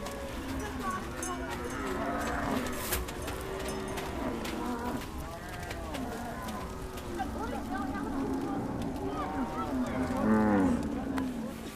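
Cattle at a Dinka nomad camp in South Sudan moo repeatedly in long overlapping calls, some near and some farther off, with a murmur of voices and camp noise underneath.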